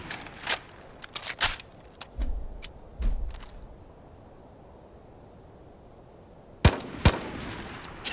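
Short bursts of M16A1 rifle fire in the Division of Arms shooter game, set to three-round burst, crack out in several quick clusters with a quiet gap before a final louder pair of bursts.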